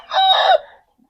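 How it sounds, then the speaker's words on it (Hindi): A single crow from an Aseel rooster, loud and close, one bright call lasting about half a second and then trailing off into silence. "ये मुर्गा है"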